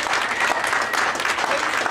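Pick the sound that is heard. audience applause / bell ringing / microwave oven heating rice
audience applause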